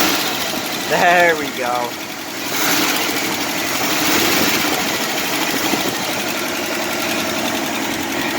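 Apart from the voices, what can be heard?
1968 Jeep Wagoneer engine running at idle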